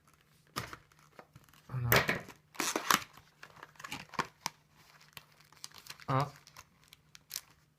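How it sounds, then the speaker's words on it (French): Dragon Ball IC Carddass card box packaging is torn open and handled, giving bursts of crinkling and tearing with pauses between, while a person speaks briefly in between. "Donc je vais commencer à ouvrir une première box."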